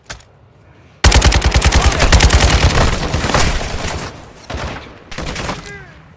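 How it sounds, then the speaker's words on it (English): Automatic gunfire in the shooter video game Call of Duty: Warzone 2.0 DMZ: a loud, rapid burst of shots breaks out suddenly and rattles on for several seconds, then fades before a second shorter volley near the end. "You are taking effective fire."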